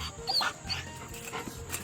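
A young puppy whimpers and yelps in short, high-pitched bursts at close range, a few thin squeaky cries over quiet room noise with no talking.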